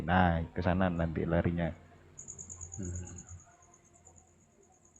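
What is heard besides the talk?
crickets chirping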